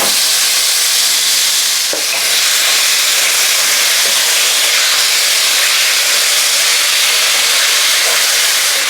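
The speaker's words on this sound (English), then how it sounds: "Now add the meat." Lamb meat drops into a hot pan over caramelized ginger, garlic and onion and sizzles: a loud, steady, close hiss that barely dips once before carrying on unbroken.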